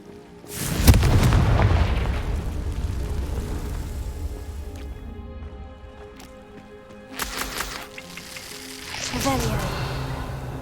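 Fire spell explosions in the Hogwarts Legacy video game: a loud, close blast near the start, then further bursts around the middle and end over a rumbling game background, with voices talking at times.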